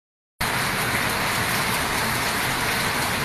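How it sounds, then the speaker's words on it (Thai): Heavy rain starts abruptly after a short silence and pours steadily as a loud, dense hiss with no letup. "ฝนตกกันนะคะทุกท่านตกเยอะมากเลย"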